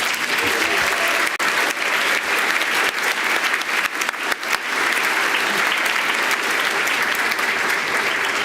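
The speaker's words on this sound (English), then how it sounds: "can we start by giving a round of applause to the musicians?" Sustained, dense audience applause for the musicians at a university recognition ceremony, loud and steady throughout.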